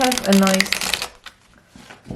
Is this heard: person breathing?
no